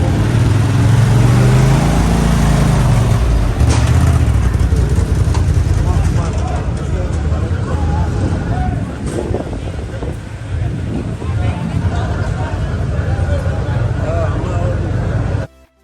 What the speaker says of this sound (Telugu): వినండి ఈ బగ్గీది.